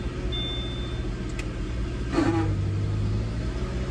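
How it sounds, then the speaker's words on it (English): A Subaru engine idles steadily, then a sudden clunk and a louder hum kick in midway as the AC compressor clutch engages. "the AC compressor turned on pretty loud"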